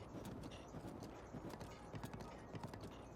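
Horse hooves clip-clop steadily in Zelda: Breath of the Wild, a brisk, even rhythm of soft, close hoofbeats running throughout with no voices.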